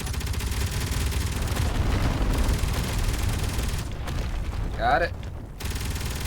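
Enemy gunfire in the Space Engineers game, dense booming bursts of rapid shots and impacts, loud and continuous, with a voice talking briefly over it.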